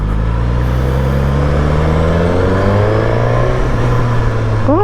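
A KTM 990 Duke motorcycle engine revs close and loud, its pitch climbing steadily as it accelerates through the gears, with a quick blip at the end.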